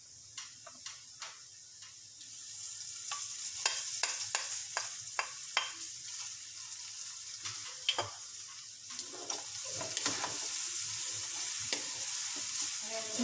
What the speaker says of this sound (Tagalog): Medyo i-prito-prito lang natin ng konti. Gisa-gisa yung Mickey para makunat-kunat.